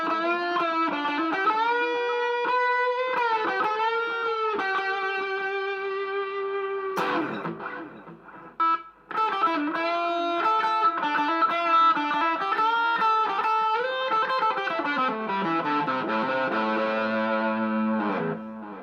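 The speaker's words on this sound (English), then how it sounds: "my other really big favourite is the second lead with the reverb and the delay on" An electric guitar plays a sustained lead through a Nu X amplifier with reverb and delay, distorted notes ringing and trailing off, with a short break midway before the phrases resume and slide downward.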